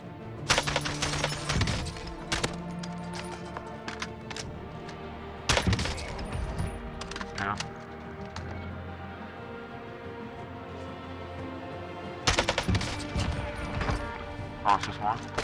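Bursts of M4A1 rifle fire in Call of Duty Warzone, with sharp volleys near the start, around five seconds and again near twelve seconds, heard over continuous game background and a talking voice.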